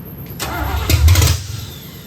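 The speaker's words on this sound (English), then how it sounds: "Apparently I cranked it enough to pump gas from the tank to the carburetor at the front end." A carbureted car engine cranks briefly, then catches and settles into a loud, steady idle, close by, with no talking.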